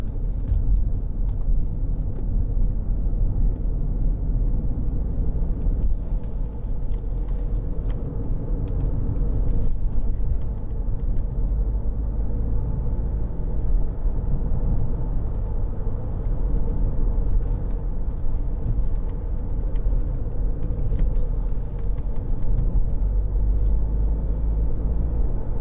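Low, steady road rumble and engine drone inside a 2012 BMW 520d SE diesel saloon cruising along a road, constant and unbroken throughout with no talking.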